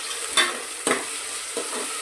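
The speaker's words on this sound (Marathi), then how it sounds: "ते छान शिजून द्यायचं टोमॅटो आणि कांदा." Tomato and onion sauté in a pan under a steady sizzle, with three quick scraping stirs spaced across the short stretch.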